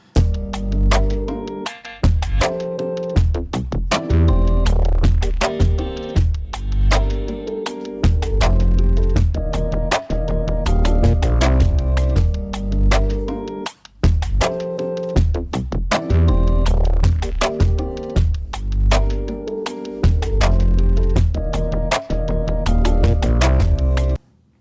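A produced hip-hop style beat, time-stretched down to 80 BPM, plays back loud and full with punchy drums and layered melodic parts, with brief drop-outs between sections.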